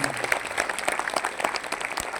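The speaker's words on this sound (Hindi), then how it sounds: "Please give a big round of applause." Audience applause at a Tiens corporate event, a dense, steady patter of many clapping hands at moderate loudness, with faint crowd murmur mixed in.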